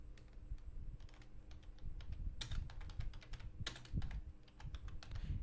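Typing on a computer keyboard, a steady close run of quick, light key clicks with a few louder strikes, soft background hum and no talk.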